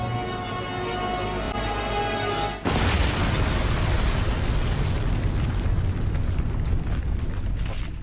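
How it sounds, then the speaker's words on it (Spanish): A massive wartime demolition explosion set off by detonator erupts with a sudden roar and rumbles on, a broad thundering wash that lingers and echoes through a valley for several seconds, preceded by a steady drone. "La explosión resonó por todo el valle"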